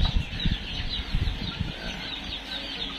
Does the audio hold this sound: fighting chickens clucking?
yes